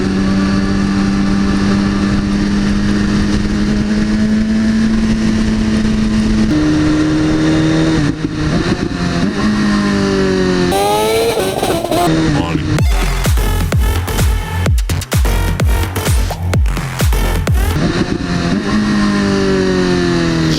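A blacked-out Lamborghini Aventador revs loudly and close, its engine note climbing and falling in repeated rising sweeps, with sharp bursts and roaring throttle blips toward the end.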